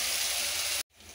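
Ginger garlic paste fries in a pan for chicken curry with a loud, steady hiss that cuts off abruptly, followed by a softer returning sizzle.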